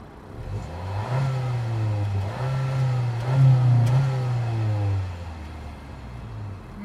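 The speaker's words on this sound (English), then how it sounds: "And here's what the exhaust sounds like." 2018 Honda Civic Hatchback with a 1.5-liter turbocharged engine revs up, its exhaust holding a close, smooth drone that swells and settles over several seconds.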